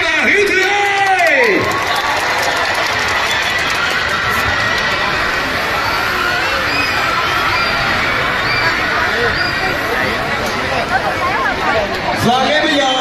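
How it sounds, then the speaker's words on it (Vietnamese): A large festival crowd at Chill Fest in Vung Tau roars and cheers loudly and continuously, with babble of voices and a few shouted calls standing out near the beginning and end. "Một tràng pháo tay dành tặng cho Mamu Heritage và Hiếu Thứ ơi."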